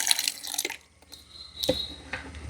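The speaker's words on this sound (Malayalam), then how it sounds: "ഞാൻ ഇതിനെ ഈ ഒരു വെള്ളം ഈ ഒരു ബക്കറ്റിലേക്ക് മാറ്റുകയാണ്" Water is poured from a container into a bucket: close, intermittent splashes and drips with quiet gaps between them, ending in a louder slosh.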